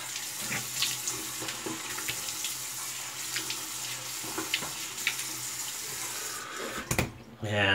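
A tap runs steadily into a sink with splashing and a few clunks, close by, the flow cutting off near the end.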